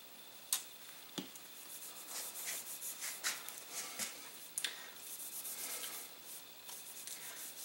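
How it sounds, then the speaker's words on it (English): An oiled cloth patch is rubbed along the barrel of a stainless steel Ruger gun, giving soft, close swishing strokes in an irregular rhythm with a few faint ticks and taps. "I'll probably put a little oil on a patch and just wipe down this barrel right here and call it a day."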